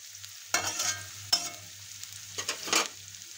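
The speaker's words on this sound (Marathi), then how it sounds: "लाल होत तोपर्यंत परतून घ्यायचं" Onion sautéing in a pan for vegetable sandwiches, with a low steady sizzle broken by a few louder bursts of spatula stirring and scraping, close by and with no talk.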